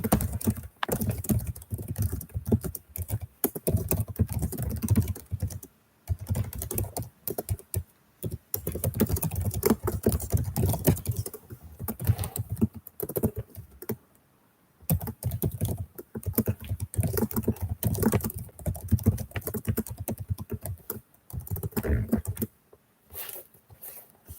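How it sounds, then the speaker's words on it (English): A computer keyboard is typed on in rapid, continuous bursts with brief pauses, close to the microphone during a live stream, with some voice in the background. "Let me type this in the chat."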